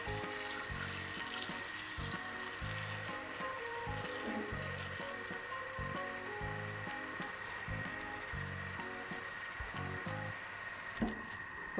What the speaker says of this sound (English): so what I need to do is just add in some water